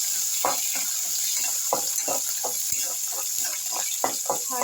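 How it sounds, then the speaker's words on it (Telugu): Chillies and curry leaves fry in hot oil in a pan for chapati noodles. A steady sizzle runs throughout, broken by soft irregular crackles and spatters close by. "చిల్లీస్ని కూడా వేసేస్తున్నాం. అలాగే కరివేపాకు కూడా ఇది బాగా ఫ్రై చేసుకోవాలి."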